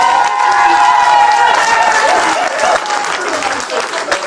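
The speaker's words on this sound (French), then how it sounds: "On les applaudit très fort" Loud, sustained applause and crowd cheering for a couple at a 50th anniversary party in Corbeil-Essonnes, dense clapping filling the room with voices mixed in.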